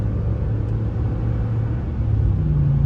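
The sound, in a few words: Ram 1500 pickup truck engine revving with exhaust burble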